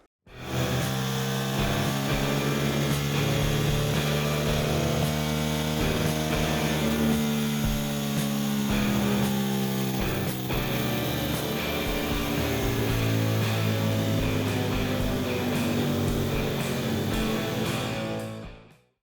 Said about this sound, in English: obviously we're going to run the bike standard, see what it's getting, see how it's fueling